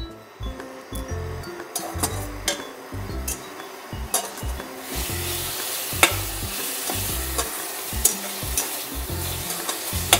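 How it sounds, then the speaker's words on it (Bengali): Masala spices frying in a pan for soya tikki masala, a steady close sizzle broken by rhythmic scraping strokes of a spoon stirring, with brief sharp clinks against the pan. "মশলাটা এবার আমি একটু ভালো করে মশলাটা ভেজে নেব।"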